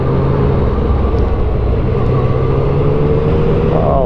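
A 2017 Yamaha FZ-09 motorcycle accelerates in traffic, its engine a steady, loud droning rumble with a harmonic whine that climbs slightly near the end, heard continuously from the rider's position.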